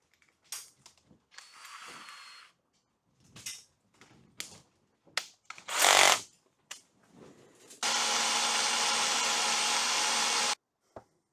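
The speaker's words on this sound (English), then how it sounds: "I'm going to get my drill and drill bits." A power drill whirs in several short bursts, then runs steadily for a few seconds, loud and close, with scattered clicks and handling noises between runs.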